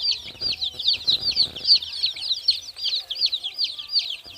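One-day-old chicks in a brooder peep in rapid, high repeated calls, a steady busy chorus close by with some faint shuffling underneath.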